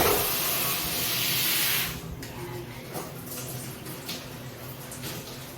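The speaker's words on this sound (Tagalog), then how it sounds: "Nagsasampo ako." Water runs steadily while shampoo is worked into wet hair, a loud continuous hiss of spray that drops after two seconds into softer splashing and scattered wet rubbing sounds close by.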